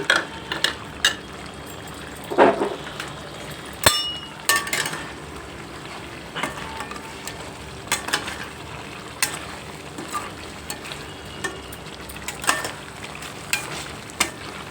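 Andhra-style spicy mutton fry cooks in a pan with a steady sizzle, broken by scattered scrapes and clinks from stirring, fairly close and moderately loud with no talking.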